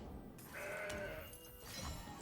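A goat bleat sound effect from the Legends of Runeterra card game, a single wavering, nasal bleat heard over a steady bed of game background sound and music, fairly faint.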